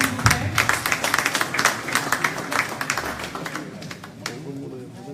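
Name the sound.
audience applauding at diploma ceremony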